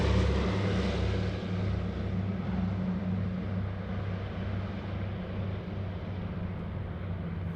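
A Douglas DC-3's propeller engines roar during takeoff, a loud, steady, low droning rumble with a strong pulsing hum that gradually fades slightly as the aircraft moves away.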